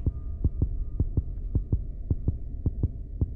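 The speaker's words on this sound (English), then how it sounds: "Why is there a heartbeat in the teddy bear?" A slow, steady heartbeat throbs from a teddy bear in the Granny horror game, with about a dozen evenly spaced low thumps over a continuous hum and no one speaking.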